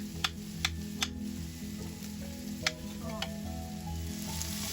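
Onions sautéing in oil for a zucchini dish, with a close, steady sizzle and a few sharp clicks and scrapes from stirring, alone with no talk.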